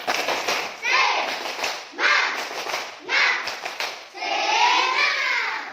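A classroom of children does a rhythmic clapping chant in bursts, quick claps mixed with their chanting voices, loud and close, in several separate phrases with short pauses between them.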